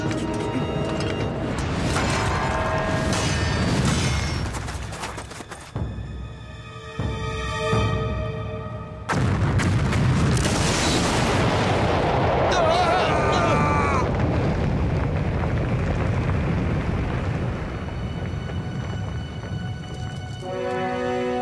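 Bomb explosions in an Avatar cartoon battle, heavy rumbling blasts and crashing bursts mixed with a music score and raised voices, loud and dense, with a quieter stretch midway.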